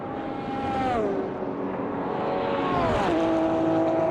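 GT3 race cars in a racing video game at Mosport, engines roaring as they blast past, with two clear downshifts and pitch drops at about one and three seconds, loud and continuous with no talk.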